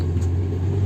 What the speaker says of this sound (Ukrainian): Маршруткою.